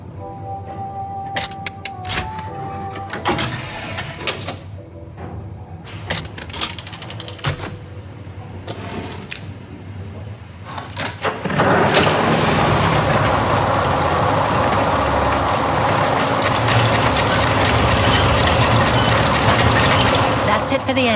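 Clockwork mechanism activating a train engine in the game Syberia, scattered metallic clicks and clunks followed by a dense, loud mechanical rumble that kicks in and runs steadily to the end.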